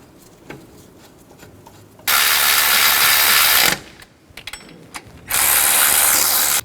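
Ratchet tightening alternator bolts on a 2007 Chevy Silverado 1500: two loud bursts of rapid, rasping clicks, close up, separated by a quiet pause and a few faint knocks.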